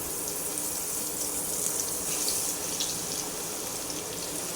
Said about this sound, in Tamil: இப்போ இந்த மீனை வறுத்தரலாங்க